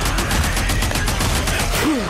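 Rapid automatic gunfire in the PS5 zombie game Days Gone, a dense continuous burst of shots that stays loud throughout, without speech.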